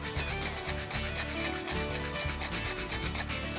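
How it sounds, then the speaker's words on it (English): Nutmeg is grated into a vegetarian shepherd's pie mash, a close, steady rasping scrape in quick repeated strokes with no pauses, and no voices. "We're gonna grate in some nutmeg."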